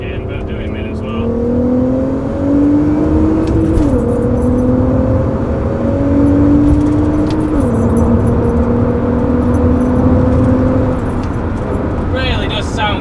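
A VW Golf MK4 R32 V6 revs while driving on tight country roads, a steady loud engine drone that climbs and drops in pitch over several gear changes, heard from inside the car.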